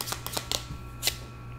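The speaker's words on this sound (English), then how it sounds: "let me just pull the cards first." Tarot cards being shuffled and drawn from a deck, with several quick soft papery riffles and slaps close by, then a brief pause and one more card snap in a quiet room, no talking.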